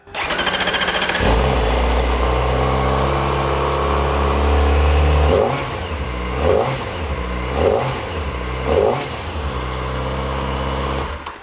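A cold Kawasaki ZX4RR motorcycle engine barks to life, then idles steadily up close, with several short, light throttle blips breaking the even hum.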